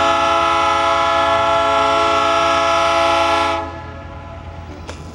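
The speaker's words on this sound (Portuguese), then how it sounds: "trem passando ali" Train passing near a skate park in Rio Negrinho, Santa Catarina, a loud sustained horn blast over rumbling wheels that suddenly cuts off, leaving quieter rolling noise.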